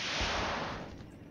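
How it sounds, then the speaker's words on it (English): A single sharp artillery blast in the Flashpoint Campaigns wargame, cracking loudly and then fading over about a second. "That's actually our artillery right there. Just targeting the area, trying to hit anything that moves in that particular sector."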